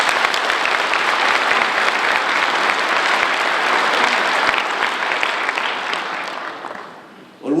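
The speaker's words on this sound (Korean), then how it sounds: "박수 한번 부탁드립니다" A large audience at the inauguration ceremony of Yeungnam University's 13th president gives loud, sustained applause that tapers off near the end. A voice starts speaking as it ends.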